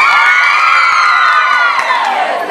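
A festival crowd at a rural farmers' day celebration cheers, whoops and shouts, children's voices included, in a loud, sustained roar that swells and holds throughout.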